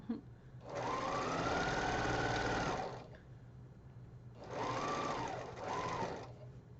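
A sewing machine stitches a quilt block in two bursts of steady, fast, close whirring, the first running about two seconds and the second with a brief slowdown partway through, separated by a quieter pause.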